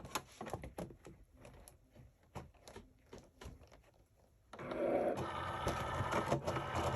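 A Cricut machine cutting cotton fabric after printing gives a steady, close mechanical whir with faint clicks. Sparse tapping and handling noises come before it.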